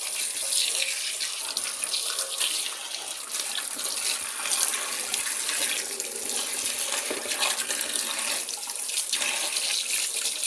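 Tomatoes are washed under a running kitchen tap, a steady loud hiss and splash of water into a sink that continues unbroken throughout.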